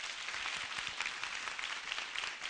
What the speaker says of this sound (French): On peut les applaudir, hein?